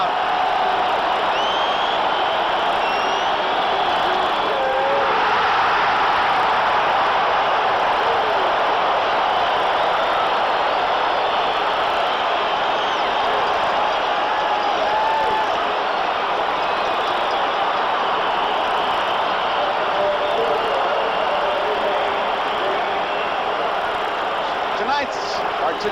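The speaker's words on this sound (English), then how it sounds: "Listen to the crowd." A huge baseball stadium crowd roars continuously at a 1982 World Series game between the Cardinals and Brewers, a dense, loud, unbroken wash of cheering, with a broadcaster's voice faintly underneath.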